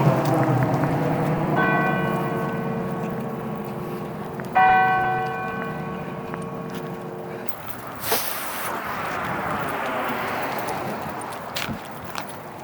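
Church bell at First Church of Danvers, the old Salem Village church, ringing in a few resonant, sustained strikes that ring out and decay over outdoor ambience, followed by rustling and light handling noise.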